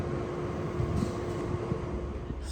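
Low, steady rumble of a Sydney Trains V-set crawling slowly along the track during heavy delays, with a faint squeal and soft mechanical creaks throughout.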